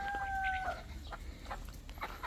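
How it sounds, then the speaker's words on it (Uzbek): Uxayil hens sitting on eggs cluck in soft, scattered bursts close by, with a brief higher call at the start, over a quiet farmyard background. "Mana tovuqlar tuxumda yotibdi do'stlar."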